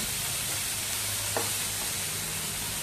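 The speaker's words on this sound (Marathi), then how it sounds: "चांगला परतवून घेऊया. आता आपला भोपळा चांगला शिजलेला आहे." Pumpkin stir-frying in a pan with coriander: a steady, close sizzle throughout, with a brief scrape of stirring partway through and no voices.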